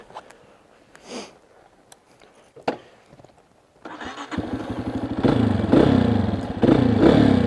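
A stock Honda CRF230F dirt bike engine starts after a few quiet handling noises, then runs with a loud, steady, rumbling idle and rising revs, close by, with no talking.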